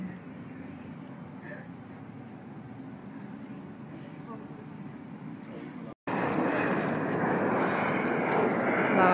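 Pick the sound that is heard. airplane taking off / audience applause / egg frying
airplane taking off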